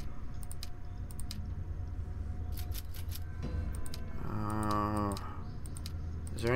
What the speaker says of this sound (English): Sorry for all the clicking. This is kind of a click-to-move type of game